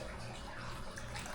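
Water poured into a bowl of thin-crust pan pizza dough mixture, a steady, close, unbroken splashing stream that runs the whole moment.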